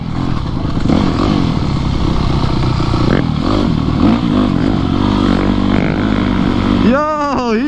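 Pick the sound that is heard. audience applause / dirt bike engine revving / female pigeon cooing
dirt bike engine revving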